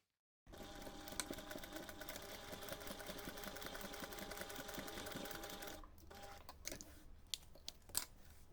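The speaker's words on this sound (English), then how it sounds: "sew this seam in two stages" A sewing machine stitches a bag gusset seam, running steadily for about five seconds before stopping, followed by a few brief clicks and fabric handling noises.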